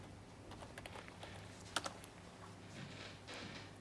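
Typing on a computer keyboard to enter a search: quick, soft, irregular keystrokes close by over a steady low hum, with one brief louder tap near the middle.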